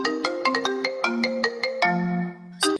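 A phone rings with an incoming call from a hidden number, playing a bright melodic ringtone of quick repeated notes, loud and close, with no voices over it.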